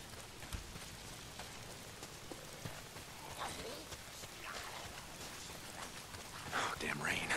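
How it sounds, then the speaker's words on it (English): Steady rain patters in the Days Gone video game, a soft constant hiss of drops on surfaces that swells slightly near the end, with faint muttered speech underneath. "If it's not the freaks, it's the goddamn rain."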